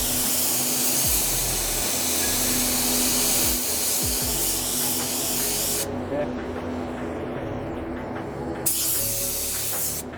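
A Fujispray V8 spray gun sprays at about 25 PSI onto a car bumper, giving a loud, steady hiss that cuts out briefly near the end before resuming.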